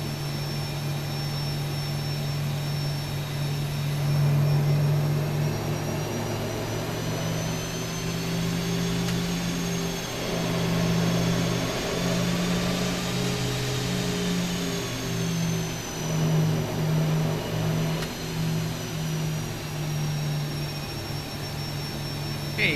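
Steady loud roar of Boeing 737 jet engines in the X-Plane 12 flight simulator, a constant whine and rumble with slowly shifting tones throughout, close and continuous with no voices.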